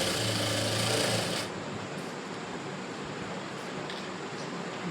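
A sewing machine stitches the inner side of a blouse seam in a fast, rattling burst of about a second and a half, then falls to quieter background noise.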